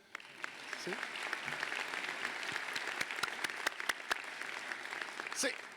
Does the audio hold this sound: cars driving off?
no